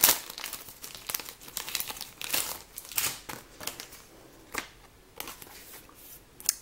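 Plastic protective sleeve for a Pokémon Charizard EX trading card being handled, giving close, fairly soft crinkles and rustles in irregular bursts with brief louder crackles.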